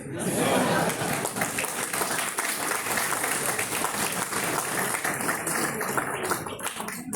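An audience applauds steadily for a person being congratulated on an achievement, with dense clapping filling the whole stretch, a few chuckles mixed in and a voice speaking over it.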